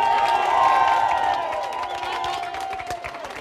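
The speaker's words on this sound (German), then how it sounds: "unter dem tosenden Applaus aller Magdeburger" Crowd of handball fans at a Magdeburg fan talk event cheering and applauding, a dense roar of voices and clapping that swells early and eases slightly while staying loud throughout.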